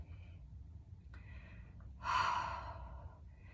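A deep breath during a yoga flow: quiet room tone, then a clear, close exhale that swells and fades over about a second, with faint softer breathing around it.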